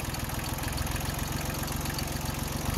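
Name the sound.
tractor engine running while moving a portable house on a trailer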